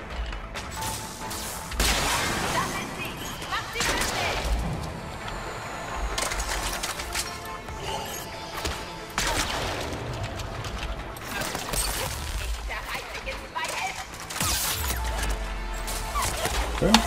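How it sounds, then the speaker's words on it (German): Rapid gunfire and crashing impacts in the Mass Effect 3 video game, with bursts of shots, smashes and debris repeating throughout amid a busy battle mix; someone talks over parts of it. "Schüsse nerven ein bisschen"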